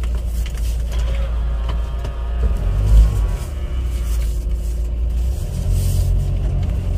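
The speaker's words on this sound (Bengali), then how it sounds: "আমার গাড়ি চালানো একটু প্র্যাকটিস হচ্ছে" Car being driven on a road in Purbachal, Bangladesh, by a learner at the wheel; a steady low engine and road rumble heard from inside, swelling briefly as the vehicle works harder.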